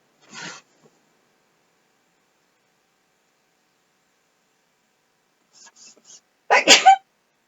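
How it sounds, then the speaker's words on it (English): One sharp, loud sneeze bursts out near the end in a quiet room, preceded by a faint breathy intake early on and a few soft sounds just before it. "I almost always sneeze a second time, so I always wait for it"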